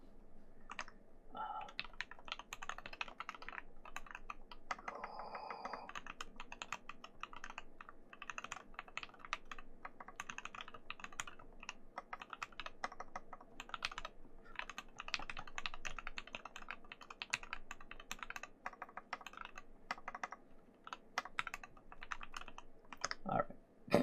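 Steady, rapid typing on a computer keyboard during a live build session, dense overlapping key clicks running continuously at moderate volume with no talk.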